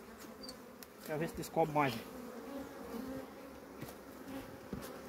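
Stingless bees building new comb in a nest inside a rock crevice buzz faintly and steadily close by, with a few louder buzzing passes as individual bees fly near, under someone speaking briefly.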